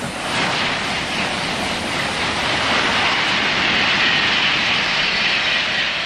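Storm winds of the great 1999 storm in Lorraine roaring through forests, a loud continuous broadband rush like jet engines at takeoff, steady and unbroken throughout.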